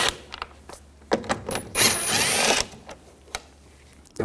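Close mechanical whirring from an 8mm socket driving out the tail light bolts on a Ford Escape, a steady ratcheting spin of about one second in the middle, with light clicks and handling noises before and after.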